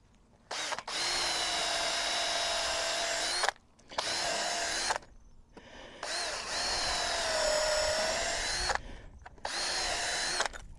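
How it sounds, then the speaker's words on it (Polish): A power drill boring two holes into wood for a chicken coop build, heard as several loud, steady whirring bursts of a few seconds each, separated by short pauses, close up with no talking. "żeby tutaj wykorzystać grubość wiertła i nawiercić sobie tu na przykład dwie dziurki"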